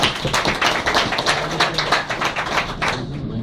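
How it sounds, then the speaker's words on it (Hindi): A room full of people applauds loudly, with dense, overlapping hand claps forming a steady roar of rapid, sharp slaps that thins slightly at the end. "इनके लिए एक बार जोरदार तालियां हो जाए"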